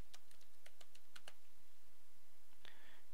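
Light typing on a computer keyboard while laying out a PCB in KiCad PCBNew, a short run of quiet irregular key clicks, close and faint, ending with a brief click.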